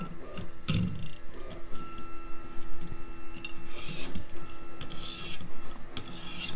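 A USMC KA-BAR knife blade is drawn across a sharpener in a steady series of close, rasping strokes with a gritty, scraping texture and short pauses between passes, and no one speaks.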